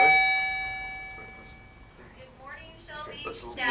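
A school PA announcement chime at an elementary school: a clear sustained electronic tone that rings at the very start and fades over about two seconds, followed by a voice talking over the PA.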